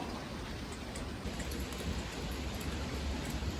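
Steady light drizzle falling outdoors in an autumn garden with okra plants, a soft, even hiss of rain continuing throughout with no voices.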